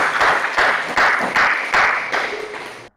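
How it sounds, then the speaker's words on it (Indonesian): Applause for a student discussion group at a university civic-education class session, a few seconds of mid-level clapping from a small audience with uneven surges and a fading tail. "tepuk tangan dulu untuk kelompok satu."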